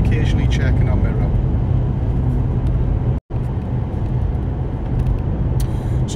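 A car engine pulls through the gears as the vehicle gradually gains speed on a road, a loud steady drone with a brief dropout midway, and someone talking over it.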